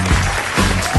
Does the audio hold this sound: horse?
no